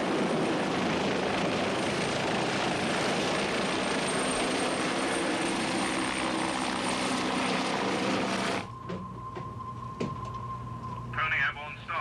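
A helicopter roars loudly with a dense, steady rotor and turbine wash as it launches from a warship's flight deck, then the noise drops away abruptly, leaving quieter background sounds.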